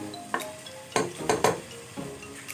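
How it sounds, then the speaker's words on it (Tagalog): A spoon scrapes and knocks through a pot of arroz caldo with ox tripe, giving four or five distinct clinks and scrapes in uneven rhythm over a faint simmer. "halu-haluin lang natin"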